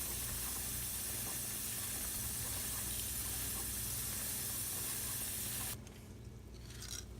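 Aerosol chain lube sprayed from a can onto a bike chain: a steady, close, loud hiss runs continuously for nearly six seconds, then cuts off abruptly to a quieter background.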